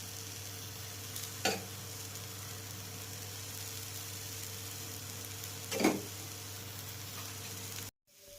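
Ghee poured onto an onion uttappam on a hot pan: a low steady sizzle over a faint hum, with two brief louder crackling bursts as the ghee hits, ending abruptly.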